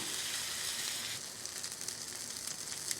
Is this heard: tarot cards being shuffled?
no